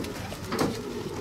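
Racing pigeons in flight during a club release in southern Attica, a soft fluttering and cooing texture heard alone at moderate level across a short moment, with no talk.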